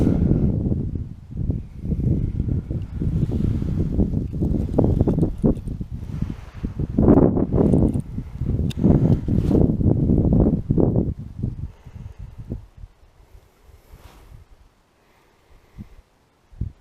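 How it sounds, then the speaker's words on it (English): Wind gusting hard across open ice during a snowstorm while ice fishing, a steady broadband roar and buffeting against the microphone that eases off toward the end. "It's gotten pretty windy."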